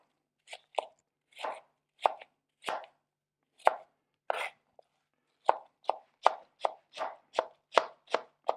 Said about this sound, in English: You're just chopping and dicing is all you're doing.